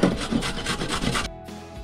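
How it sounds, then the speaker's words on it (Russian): A carrot is grated on a coarse grater in a home kitchen, giving rapid, rhythmic rasping strokes that are close and fairly loud, then a short pause. No one speaks. "морковь натрем на крупной терке"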